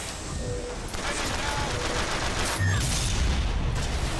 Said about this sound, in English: So we got our turret fighting for us.